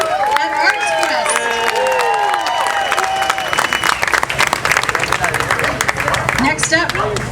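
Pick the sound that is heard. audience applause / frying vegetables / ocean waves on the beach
audience applause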